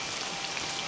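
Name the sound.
rain falling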